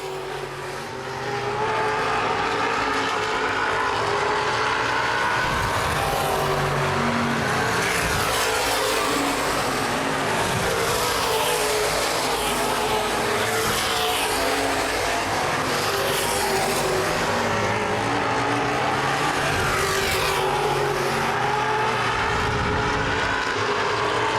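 Loud, continuous roar of several open-wheel modified race car engines droning and revving together at Baer Field Speedway during a 2011 feature race, steady and dense throughout with no talking.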